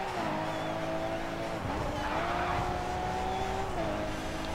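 A race car engine in GRID 2 held at full throttle, a steady, loud droning whine with slight pitch dips at gear changes, over faint tire noise, with no speech.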